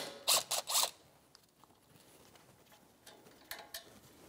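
A 12 mm socket ratchet loosens a brake line bracket on the steering knuckle of a 2010–2023 Toyota 4Runner during a front brake job, giving three quick close clicking bursts followed by quieter scattered ratcheting clicks.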